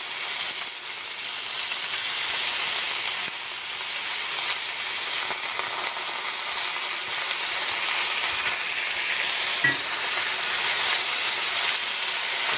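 Thawed, drained frozen Chinese vegetables sizzle in a pan during a low-carb stir fry, a continuous loud crackling hiss with occasional small pops, steady throughout with no talking.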